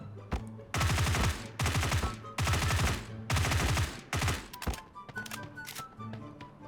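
Gunfire in a close-range shooter video game: four loud bursts of rapid automatic fire, each lasting about half a second to a second with short gaps between, followed by scattered single shots and game effects.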